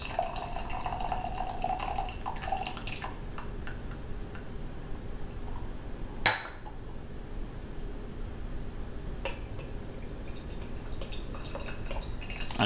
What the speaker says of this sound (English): I get here that the leaves are a little bit stuck, so it is a slow pouring.